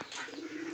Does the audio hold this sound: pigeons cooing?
yes